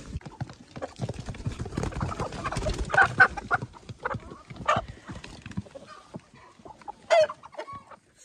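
Chickens cluck and squawk in short bursts while eating bread, fairly close, with scattered pecking and shuffling sounds between calls.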